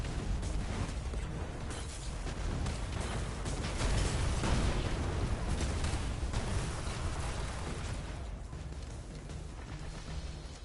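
A Truth rocket launcher in Destiny fires, and its rockets explode in a steady, dense wash of blasts and rumbling that swells slightly in the middle and then eases off.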